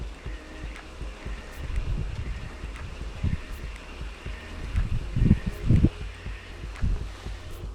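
Strong wind buffets an open lakeshore during pike spinning from the bank, a continuous low rumble and gusty roar with rustling throughout and no talking.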